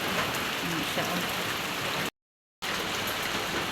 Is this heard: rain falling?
yes